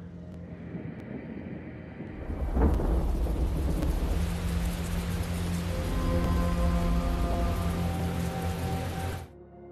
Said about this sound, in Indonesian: Ketika hujan turun saat Paul datang